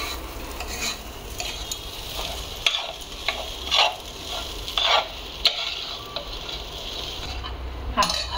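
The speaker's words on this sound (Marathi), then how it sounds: "हे छान असं मस्त मंद आचेवरती आपल्याला परतून घ्यायचं आहे" Washed khichdi ingredients being sautéed in a pan over a low flame, with a steady soft sizzle and intermittent scraping stirs of a spoon against the pan, close and fairly quiet with no talking.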